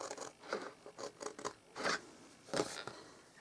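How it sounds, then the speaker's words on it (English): Scissors snipping the outer corners of a paper box for a card-making project, several short separate crisp cuts close by and fairly quiet, with no talking. "I'll have to use these scissors"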